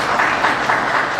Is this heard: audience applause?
yes